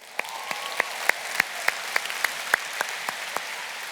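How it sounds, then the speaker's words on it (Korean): Audience at a Korean church student prayer gathering claps in unison, about a dozen sharp, evenly spaced claps in a steady rhythm of roughly three per second over a quiet room. "박수 한번 칩시다."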